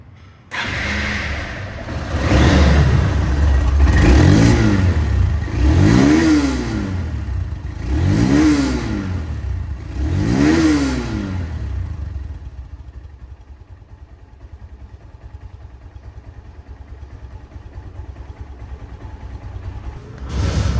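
A second-hand Honda Hornet motorcycle with CBS double-disc brakes runs close by, revving up and down in four or five strong rising-and-falling surges before settling back to a quieter idle.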